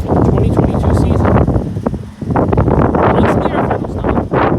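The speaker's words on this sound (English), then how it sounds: "It is windy as hell." Strong wind buffets the microphone outdoors at a Halloween screampark at night, a loud rumbling roar with gusts that dip briefly midway, and a voice partly heard under it.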